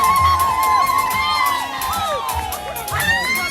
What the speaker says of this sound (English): That was my mom cheering, and of course she was the loudest in the room.